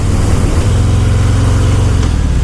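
A 2018 Harley-Davidson Fat Boy 114 motorcycle cruising on the interstate, its engine giving a steady low rumble under loud, constant wind and road roar that runs the whole time without pause.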